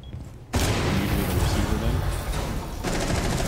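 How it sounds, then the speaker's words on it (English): A loud explosion in a video game bursts in suddenly and rumbles on as a dense, sustained roar with crackling, gunfire-like texture that stays dominant throughout. "This is a fucking loud ass explosion, bro."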